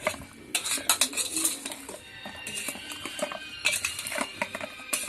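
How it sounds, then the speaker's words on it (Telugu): Chicken 65 pieces tossed with masala in a pan, a spoon scraping and clattering against the metal in busy, uneven strokes, close and fairly loud with no voices. "మంచిగా కిందికి పైకి కలుపుకొని అన్ని పీసెస్కి పట్టేలా కలపాలండి మంచిగా"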